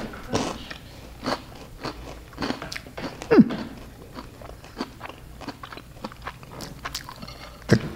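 Cap'n Crunch cereal being bitten and chewed up close, a series of sharp crunchy bites and crackles scattered across several seconds, with no clear talking.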